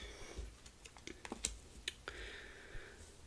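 Tarot cards drawn from a deck during a pick-a-card reading, heard as a scattered series of soft, close clicks and light slides over quiet room tone, with a few sharper snaps.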